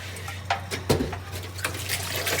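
Water sloshing and splashing inside a clay pot being rinsed, with scattered close splashes and a few knocks against the pot, no talk.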